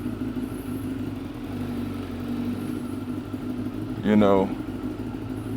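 A motorcycle engine idles steadily while warming up before wheelie practice, a low continuous rumble under a man's speech, with a brief louder burst near the end.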